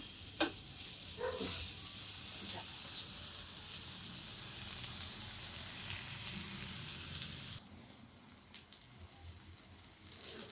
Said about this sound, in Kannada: ಸ್ವಲ್ಪ ಮೀಡಿಯಮಲ್ಲಿ ಇಟ್ಬಿಟ್ಟು ನಾವು ಫ್ರೈ ಮಾಡ್ಕೊಳ್ಬೇಕು